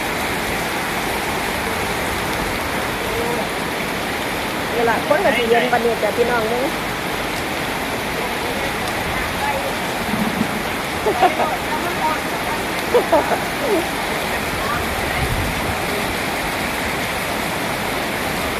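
Heavy rain pours down on a street in Soi 55 that is starting to flood, making a dense, steady hiss with nearby splashing, and someone speaks over it in Thai.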